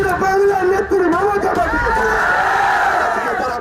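A large crowd at a political rally for Abbas Siddiqui in Bengal gives off a dense, continuous roar of voices and shouting, loud and close throughout.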